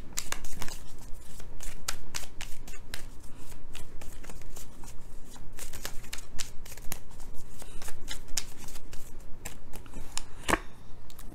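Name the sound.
shuffling tarot cards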